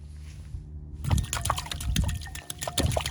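A hand slaps water to open the gates of Wakanda in Black Panther 2: several close, wet smacks and splashes land in a loose rhythm, with dripping and trickling between them.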